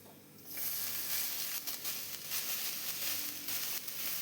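Chopped banana flower, soaked in salted turmeric water, hits a hot pan for a poriyal and erupts into a sudden sizzle that settles into a steady crackling hiss with occasional stirring bursts, fairly quiet overall.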